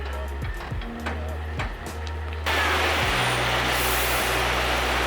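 Buses sit idling at a large bus terminal in Panama City. Low engine rumbles and a few clanks give way to a sudden loud hiss of air brakes that keeps blasting on.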